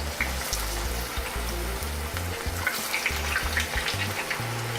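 A batch of garlic parmesan fries bubbles and sizzles steadily in hot oil, close and continuous, with a low rumble running underneath and no voices.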